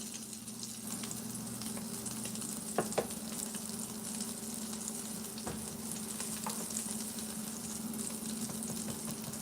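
Home fries frying in a pan give a steady, close sizzle, with occasional scraping knocks from stirring, and no talking over the cooking.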